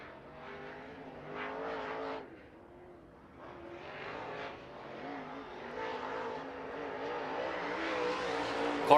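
Late model race cars roar around Off Road Speedway during Tri-State Late Model qualifying, engines heard from a distance as their revs climb and fall, then build to a steadily rising, louder whine.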